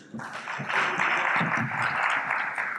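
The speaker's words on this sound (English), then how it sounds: "Let's give a resounding round of applause for my panelists" Conference audience applauding panelists at a CEO summit, a steady, sustained round of clapping from a large crowd that swells after a brief start and holds evenly throughout.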